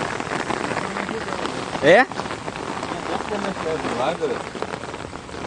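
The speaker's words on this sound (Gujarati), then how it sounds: "વરસાદ ચાલુ થઈ ગયો" Steady rain falls across a road-construction area near the Rajkot market yard, with a constant wash of drops throughout, a brief louder burst partway, and voices talking over it.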